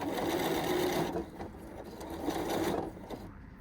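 A Janome Hello Kitty sewing machine runs in short, close whirring bursts of stitching, stopping and starting again near the end.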